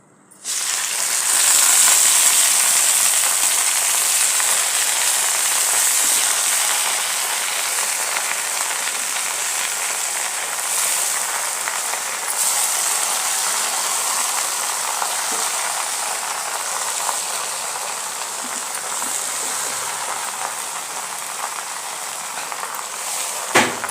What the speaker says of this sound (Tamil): இப்போ வந்து எண்ணெய் காஞ்சிருச்சு இந்த ஸ்டேஜில் நம்ம புளிச்ச கீரையை அள்ளி போட்டுக்கலாம்